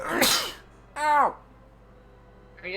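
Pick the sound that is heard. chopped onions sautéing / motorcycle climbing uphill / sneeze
sneeze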